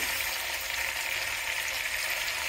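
Big chunks of tomato, with cherry tomatoes, fry in a pan for a Nellore fish curry, giving a continuous bright hiss and sizzle that stays steady and close throughout, with no talking.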